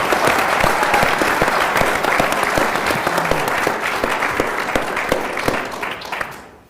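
A crowd at a panel conversation with legislative leaders gives a sustained round of applause, thick massed clapping with a few sharp nearby claps, tapering off to silence at the end.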